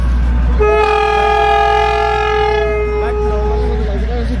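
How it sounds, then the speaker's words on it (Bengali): The Darjeeling toy train sounds a long, loud horn blast of about two and a half seconds over a constant heavy rumble of the passing train. A short second note follows, heard close in the open air. "এখান দিয়ে টয় ট্রেন আসতে দেখো কত সুন্দর লাগছে"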